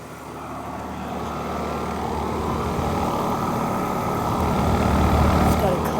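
Bryant Sentry air conditioner with a Copeland compressor running outdoors on a hot day, a steady low mechanical hum and drone that swells slightly louder over the clip, with faint voices partly masked beneath it.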